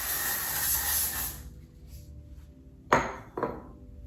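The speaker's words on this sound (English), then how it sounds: "So I'm just gonna kind of spray these." A steady spray of dry conditioner aerosol hisses close by onto hair extensions for over a second, then stops, followed by two sharp clicks or taps.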